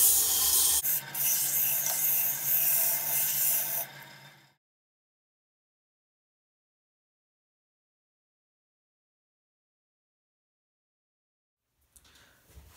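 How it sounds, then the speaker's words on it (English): A natural-edge wooden goblet spinning on a lathe is sanded at low speed, giving a steady rough rubbing hiss for about four seconds. The sound then stops and silence follows. "We're all done sanding"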